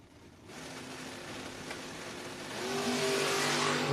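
A white Pontiac Firebird in a No-Box 660 drag race, its engine droning at a steady pitch, then climbing and growing louder in a hard rev toward the end, with no voices.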